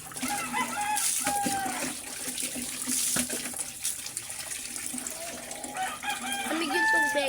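Running tap water filling a bath, a steady splashing flow under intermittent rooster crowing and clucking nearby, with no speech.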